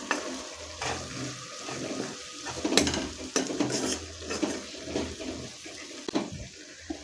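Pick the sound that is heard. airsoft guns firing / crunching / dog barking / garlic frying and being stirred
garlic frying and being stirred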